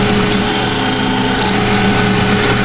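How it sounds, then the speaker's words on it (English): A 1-inch belt sander smooths the edge of a wooden piece, producing a loud, close, continuous abrasive whir with a steady motor tone throughout and no talk. "It's all about letting the sander sand."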